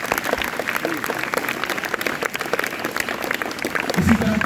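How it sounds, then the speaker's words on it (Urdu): A speech competition audience on the theme of love for the homeland breaks into sustained, dense applause that stays steady throughout, with a brief voice rising near the end. "الحمدللہ ایک مرتبہ پھر سے زوردار تالیاں اس طرح رکھتے ہیں۔"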